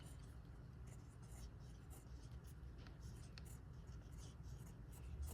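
Faint scratchy strokes of a dip pen loaded with ink moving across paper, soft and close over a low steady background hum, with no talking.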